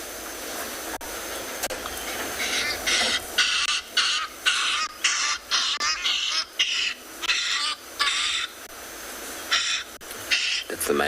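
A recorded male hadeda ibis call played back outdoors at sunrise on a safari: a series of loud, harsh, rhythmic honking bursts repeating over a steady background hum.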